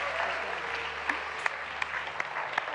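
Studio audience applause welcoming Reema Khan on a Ramadan television show set, a brief steady burst of many hands clapping with a few sharper individual claps standing out.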